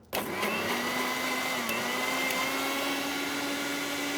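A Sumeet mixer grinder with a large 1.5-litre jar switches on abruptly and runs at a loud, steady, high-pitched whir close by, with no talking over it.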